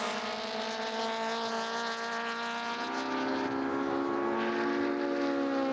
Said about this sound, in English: Love the sound of these cars ripping up the straightaway as well.